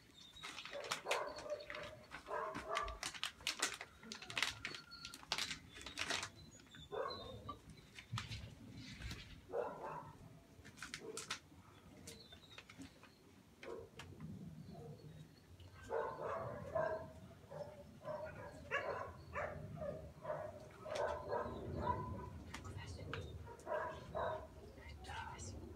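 A dog barks now and then outdoors, with birds and pigeons audible in the background, while people talk softly and whisper through much of the scene.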